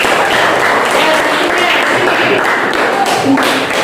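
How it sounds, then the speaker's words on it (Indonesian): A class audience applauds a student group after their presentation in an Indonesian-language lesson, a short, loud, dense burst of clapping filling the whole moment. "Tepuk tangan untuk kelompok ini."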